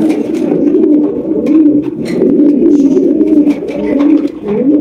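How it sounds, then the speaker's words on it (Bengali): A pair of bright deep-red Maltese pigeons coo continuously at close range, low rolling coos repeating throughout with faint background chatter. "এখানে রয়েছে একজোড়া লাল টকটকা মাল্টেস কবুতর"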